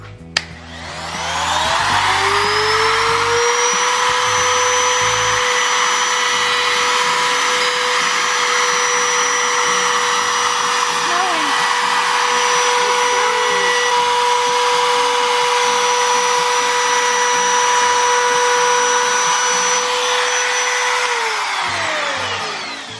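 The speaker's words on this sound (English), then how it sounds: "A router and a round over bit." A wood router fitted with a round over bit spins up to a loud, steady high whine while rounding over a wooden edge, holding for about twenty seconds before winding down.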